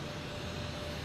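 Etihad Boeing 787 jet airliner taxiing at Boston Logan Airport, a steady broadband engine rumble and whine held at a constant level throughout, fairly distant with no talk.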